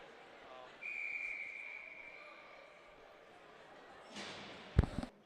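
At a varsity ice hockey game, a referee's whistle gives one long, fairly faint blast over rink ambience, followed later by sharp puck and stick clatter.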